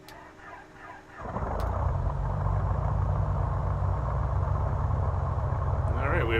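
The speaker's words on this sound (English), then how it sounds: "we have a good start on engine number 1" A Piper PA-44 Seminole's number 1 engine cranks briefly, then catches and settles into a loud, steady idle close by, a deep continuous drone holding for several seconds.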